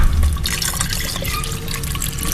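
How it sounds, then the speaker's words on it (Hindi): Water pours steadily into a pot of mutton kunna, a Chinioti-style meat curry, with a continuous splashing, gurgling stream that is close and fairly loud throughout. "तो अब इसमें मैं पानी शामिल कर रही हूँ।"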